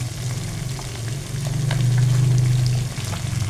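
Peppered galunggong (round scad) fish fry in hot oil, giving a steady close sizzle that swells louder midway with a few faint crackles and pops, and no talking.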